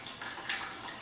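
Water layer poured off from a biodiesel processing tank, a steady broadband splashing and trickling pour that runs continuously and fairly close, with no voices over it.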